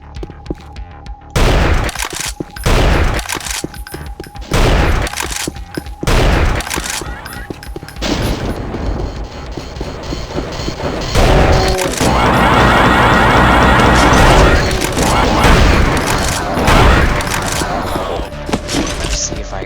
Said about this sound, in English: Now I'm going to show you a little bit with the sniper rifle.